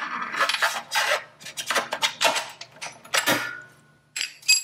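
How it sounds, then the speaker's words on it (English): Metallic scraping, clicks and clinks come from a rear axle being pushed out of the wheel of a Zero SR/F electric motorcycle, in close, irregular bursts with brief pauses. "the axle comes out this side, so I'm going to push it from the other side and support the wheel while pulling it through"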